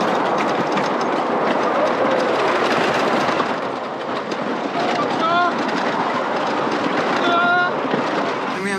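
A wooden roller coaster train rumbling and clattering along its track at Mt. Olympus Theme Park, Wisconsin Dells, steady and fairly loud, with people talking faintly over the noise.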